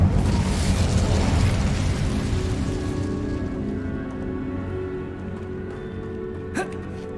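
An Incendio fire spell cast in Hogwarts Legacy, a loud roaring burst of flame that fades gradually over several seconds into quieter background music, with a small crackle near the end.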